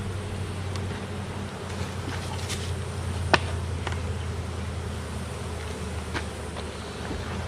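Honeybees in an open hive box during a fall inspection drone in a steady, dense buzz close by, continuous throughout with one brief sharp knock midway.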